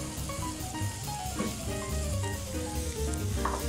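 Bamboo shoots and konjac are tossed into hot oil for a simmered spring vegetable and sea bream dish, giving a loud, dense, continuous sizzle with crackling pops and stirring clatter throughout.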